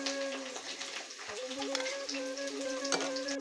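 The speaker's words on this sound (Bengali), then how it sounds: "ক্যাপসিকামটা প্রায় ভাজা হয়ে গেছে।" Capsicum frying in a pan for a chilli cauliflower dish, giving a steady crackling sizzle that runs throughout, with a higher hum or tone layered over it and no speech.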